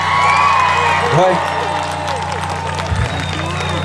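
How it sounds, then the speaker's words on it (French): A crowd at the Fête de la St-Jean in Farnham, Quebec claps and cheers in a broad, continuous wash of applause, with a few brief voices calling out over it. "J'aimerais qu'on les applaudisse généreusement, s'il vous plaît."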